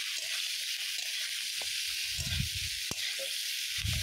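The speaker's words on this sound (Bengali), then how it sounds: "আমি ভালোভাবে নাড়াচাড়া করে নিচ্ছি।" Chicken pieces sizzle steadily in hot oil while being stirred in a pan for a coriander chicken curry, with intermittent scraping and clatter of the utensil over a constant frying hiss.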